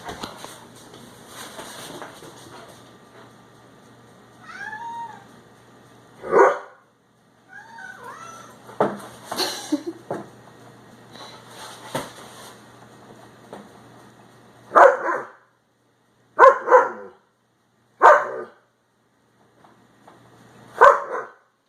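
A pet dog and cat play indoors at home, with scattered meows and barks in short bursts. There are several louder yelps near the end over a faint steady background hum.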